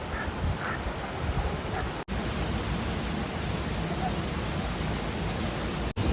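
Dense, even rush of clear water falling from above at a large waterfall near a hill village, loud and constant, with two brief cuts in the sound and no clear speech.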